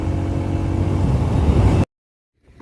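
A TVS Apache RTR 160 2V motorcycle engine revs with a loud, close, sustained roar that cuts off abruptly, leaving near silence for the last moments.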